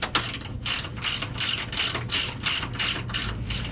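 A hand ratchet snugs down the sway bar mount bushing bolts on a 2007 Chevy Silverado, giving close, loud bursts of rapid clicking in a steady back-and-forth rhythm, with about ten strokes and no talk.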